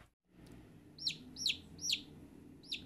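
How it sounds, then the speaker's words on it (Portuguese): A newly hatched chicken chick in a cardboard incubator gives four sharp, high chirps at a steady interval, close and clear above a low hum. "Gente, nasceu um pintinho."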